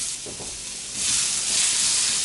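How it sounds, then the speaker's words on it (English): Onions left undisturbed to char and caramelize in a hot skillet give a loud, steady hiss of frying, swelling brighter partway through, close up and with no voices. "so that we can go ahead and caramelize those onions"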